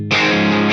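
A sustained, heavily distorted electric guitar chord through an FM3 amp modeler with reverb off rings out loud and dry, with no reverb tail, held for under a second.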